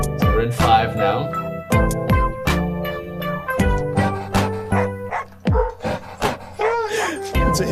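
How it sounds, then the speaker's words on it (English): Repeated dog barks and yips sampled into a hip-hop track, punching out loud and rhythmic in time with the beat over a dense musical backing. "And we got doggy barks to help us count."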